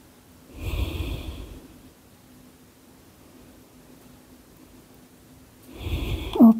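Deep, audible breaths during a yoga exercise, a long breath near the start and another near the end with a quiet pause between, close and fairly soft.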